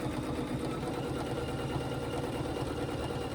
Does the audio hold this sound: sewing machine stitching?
yes